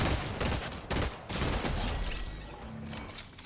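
A few sharp gunshots in a video game, close and punchy, followed by a fading rumble with no talk over it.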